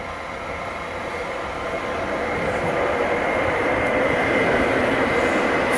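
Stadler Flirt electric multiple units of Koleje Mazowieckie at Łowicz Główny station in gloomy, rainy weather, a steady rolling rumble with a rising hum as a train moves through, heard alone.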